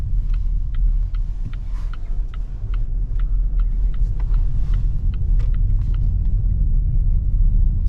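A 2021 Volvo XC40 T2 with a 129 hp petrol engine drives through Zagreb at night, giving a steady low engine and road rumble heard from inside the car, with faint ticking sounds throughout.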